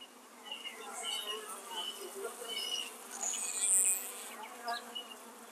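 Honey bees at an open beehive during a hive inspection, a soft continuous buzzing hum with wavering pitch, close but fairly faint, alone without speech.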